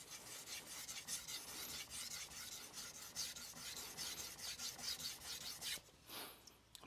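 A Kohetsu HAP40 210mm gyuto kitchen knife is stroked back and forth on a King NEO 800 whetstone, producing a continuous close, gritty rasping scrape that briefly thins and pauses near the end.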